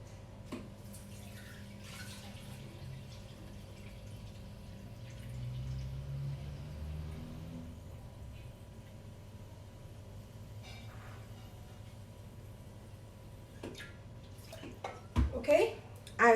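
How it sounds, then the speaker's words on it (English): Water pours from a tap into a pot in a home kitchen, 800 grams measured for blanching shredded radish, a soft steady rush that swells mid-way and then gives way to a few clinks and knocks. "Okay, I filled up 800 grams of water."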